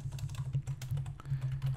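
Rapid typing on a computer keyboard, a steady patter of light key clicks close by, alone over a low hum.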